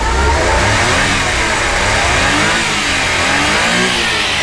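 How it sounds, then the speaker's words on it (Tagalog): A car engine revs hard and close, a loud continuous roar that rises and falls with the throttle. "Try natin yung power ng ating makina"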